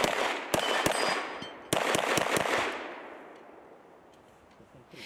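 Sharp gunshots ring out at an equipped practical shooting range in Tver region during a training camp, a handful of cracks in two quick clusters with a long fading echo, fairly close.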